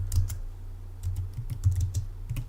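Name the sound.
typing code on a computer keyboard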